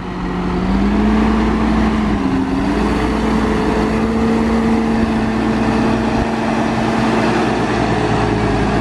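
A Valtra T214 tractor's engine drones steadily and loudly while the machine turns, towing a heavy implement, its pitch rising slightly early on and then holding even throughout.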